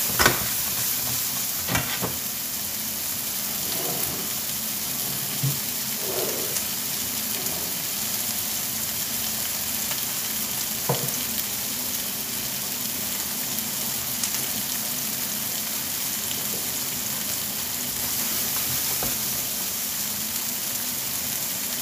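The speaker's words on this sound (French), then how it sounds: "on fait revenir les poivrons dans le sucre de viande" Bell peppers sautéing in meat juices in a pan for a one-pot chicken and merguez dish, giving a steady close sizzle with occasional stirring scrapes throughout.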